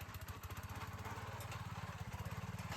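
A tractor engine runs steadily with a fast, even chugging pulse and a rough mechanical drone, fairly faint and continuous with no talk.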